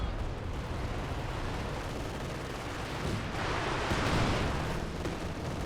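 Nebelwerfer rocket artillery in the Company of Heroes 2 video game, a dense rumbling barrage of launches and impacts with a louder burst near the middle and no speech.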